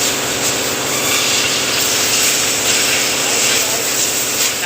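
A car engine with a misfire runs steadily, a loud continuous drone with a rough, hissing edge.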